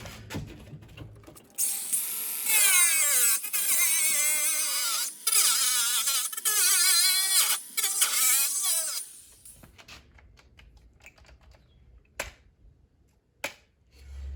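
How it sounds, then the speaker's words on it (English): A battery-driven grinder whines loudly in short bursts, a high-pitched motor scream that starts and stops several times before giving way to quiet shop sounds and a few sharp knocks. "that's the thing with these battery-driven grinders. Battery gets hot."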